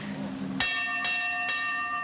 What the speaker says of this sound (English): Sally, shall I ring that bell?